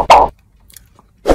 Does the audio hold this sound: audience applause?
no